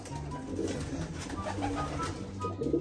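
Racing pigeons in a loft: repeated low, rhythmic cooing from several birds close by, steady throughout with no talk.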